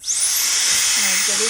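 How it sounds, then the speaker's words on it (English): A handheld air blower blasts out the inside of an A1 machine, a strong, continuous hissing rush of air that starts suddenly and holds steady at close range. "The very first thing I'm going to do is blow everything out. So I'm going to use my blower."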